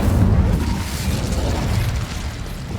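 Incendio fire spell cast in Hogwarts Legacy, a loud rushing burst of flame with a low rumbling roar that holds steady for a few seconds, alone without talk.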